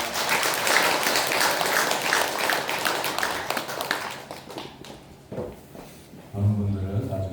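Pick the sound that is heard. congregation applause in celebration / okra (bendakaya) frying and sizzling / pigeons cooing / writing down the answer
congregation applause in celebration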